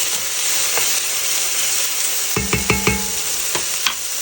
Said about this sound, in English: my oil is preheated. I'm going to go ahead and add in my chopped onion